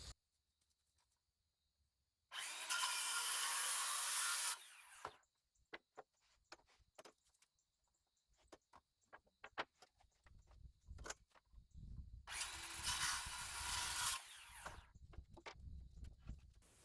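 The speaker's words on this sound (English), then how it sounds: "So I'll just use a circular saw because all I need to do is 2 cuts." Circular saw making two cuts through wood trim during a mudroom remodel, each cut a loud, steady whining burst of about two seconds, with quieter knocks and handling clatter between them.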